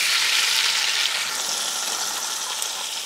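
A whole yellow onion frying in a Dutch oven, giving a loud, steady, close hiss of sizzling that stays even throughout.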